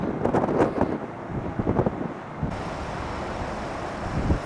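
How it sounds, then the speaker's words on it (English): Gusty wind at Tampa International Airport buffets the microphone in low rumbling bursts, steady and close, with a roar that rises and falls across the clip. "The wind's picking up again."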